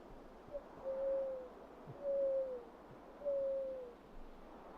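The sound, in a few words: person imitating bird noises, owl-like hooting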